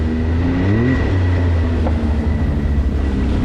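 A Can-Am Maverick X3 Turbo side-by-side drives a hardcore wooded trail through tall weeds, its engine a steady, loud close drone with shifting pitch throughout, no talking.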